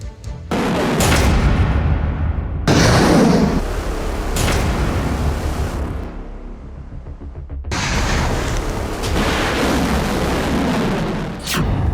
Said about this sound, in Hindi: जमीन से जल, जमीन से आसमान में बारूदी विस्फोट